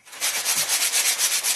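A handheld sander works a craft piece with steady, rhythmic rubbing strokes, a close, bright scratchy hiss pulsing about five times a second with no voices.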